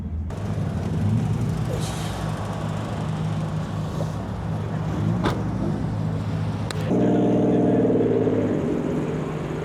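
Cars gathered at Daikoku Parking in Tokyo, a continuous roar of engines and traffic with a hissing burst and a deeper engine note rising in the last few seconds, close and loud.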